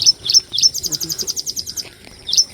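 Close, high chirps from a small bird near a lotus field in Thrissur come in a quick, even series and then a few spaced calls, loud against faint low background noise.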